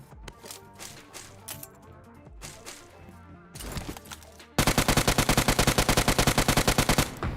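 A UMP in the mobile game PUBG Mobile fires a few scattered shots, then a loud, rapid automatic burst of evenly spaced cracks through the final seconds.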